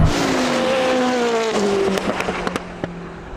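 Koenigsegg Jesko and Bugatti Chiron Super Sport launching in a drag race, a loud high-pitched engine note sweeping through the run with sharp pops and bursts near the end, no talking.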